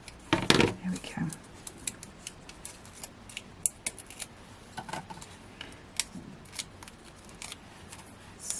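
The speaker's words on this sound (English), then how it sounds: "So just snip in." Scissors snip through craft card to cut out floral toppers, giving a run of sharp, close clicks and cuts at an uneven pace while a person talks quietly.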